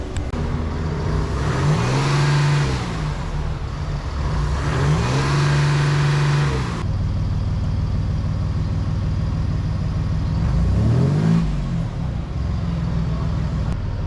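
Next Gen Ford Ranger V6 turbo diesel fitted with a Manta exhaust, revving loudly up and down in three distinct surges with a steady idle between, close and alone.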